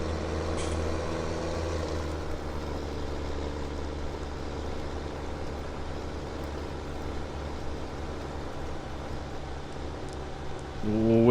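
Farming Simulator 17 tractor engine drones steadily while racing down a field, a constant heavy low rumble with little change until a slight rise at the end.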